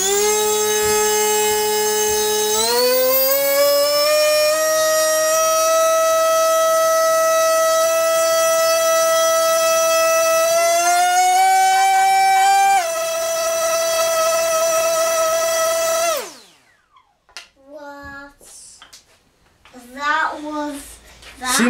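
SunnySky 2207 2100kv brushless motor spinning a 4.5x4.5 propeller on a 6s battery, a loud, steady, harmonic-rich whine that climbs in pitch in steps before cutting off abruptly, followed by brief faint voices.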